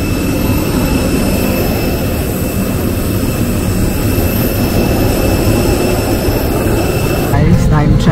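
Steady roar of airplane jet engines on an airport apron, a loud continuous wash of noise that swells slightly near the end, with voices faintly under it.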